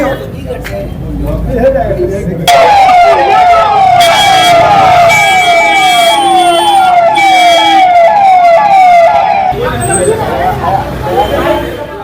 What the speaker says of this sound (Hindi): ये तस्वीरें देख रहे हैं, एम्बुलेंस पहुंची है जेल के अंदर।